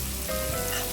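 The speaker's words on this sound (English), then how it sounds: "just frying up my seasoning" Seasoning fries in a hot pan as the base for Jamaican-style curry fish. It makes a steady, close sizzle and crackle throughout, with no talking.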